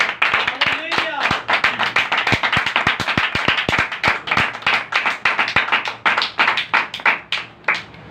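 Loud applause from a church congregation, vigorous clapping with many sharp individual claps close by, a voice calling out over it early on, and the clapping thinning toward the end.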